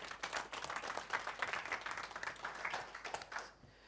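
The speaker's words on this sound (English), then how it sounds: "If you want to give him a round of applause," A live audience claps to welcome a performer back onto a stage, a faint, distant wash of applause holding steady for a few seconds before cutting off abruptly.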